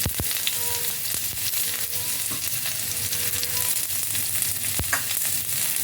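Chopped garlic and onion sauté in hot oil in a frying pan with a continuous close sizzle. A few sharp scrapes and taps come from the spatula as the pieces are stirred, and there is no talking.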